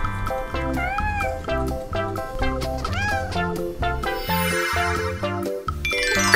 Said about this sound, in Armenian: Կատու։